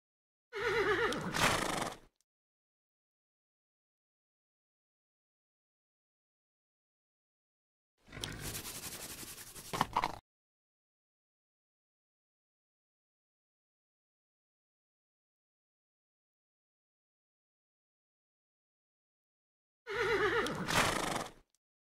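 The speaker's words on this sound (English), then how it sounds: "There's a horse outside. Is that your horse?" Horse neighing in the adventure game Detective Hayseed - Hollywood, three separate loud whinnies roughly two seconds each, spaced far apart with silence between them.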